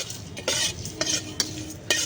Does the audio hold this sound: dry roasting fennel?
yes